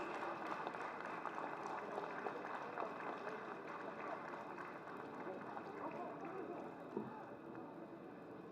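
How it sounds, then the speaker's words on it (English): Audience clapping at the inauguration of a trade fair in an exhibition hall, heard as a steady, dense wash of applause that continues throughout without pause. "Can you all clap your hands more louder for the two powerful ladies?"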